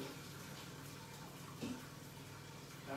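Tap water runs into a kitchen sink while cooking chicken and bacon spaghetti carbonara, a soft steady splashing stream, faint and close, with a small clatter partway through.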